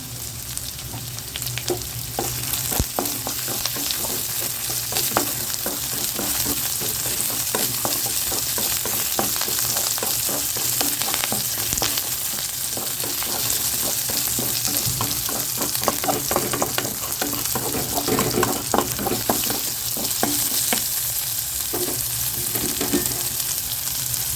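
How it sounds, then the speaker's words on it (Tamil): Garlic and curry leaves for a garlic chutney sauté in a hot pan: a loud, steady sizzle runs throughout with frequent scraping stirs of a spatula, and no talking. "இது கொஞ்சம் வதங்கட்டும்"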